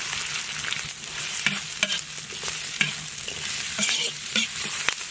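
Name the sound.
stir-frying scallion, ginger, garlic, dried chili and Sichuan pepper in oil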